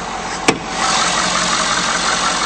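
A 2011 Ford F-250 Super Duty pickup idles steadily close by, an even rumbling drone with a single sharp click near the start and no voices.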